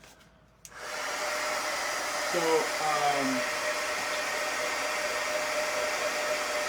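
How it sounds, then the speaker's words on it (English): A hair dryer switches on after a brief word and blows in a steady, loud whoosh as it dries freshly painted tennis shoes, a short higher whine wavering in the middle of the run. "now I'm not heat setting it with this dryer"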